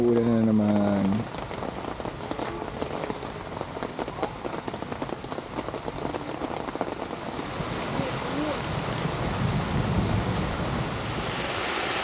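Steady rain pours down at a wooded car campsite, a dense, close hiss of drops on surfaces that runs throughout, with a few brief bursts of other sound near the start.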